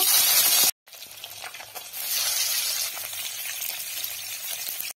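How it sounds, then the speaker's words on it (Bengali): Fish frying in hot mustard oil in a kadai, with a loud, close, crackling sizzle. The sizzle breaks off for a moment after the first burst, then comes back and runs steadily before stopping abruptly. "তেল গরম হয়ে গেছে, এখন মাছগুলোকে ভেজে নেব।"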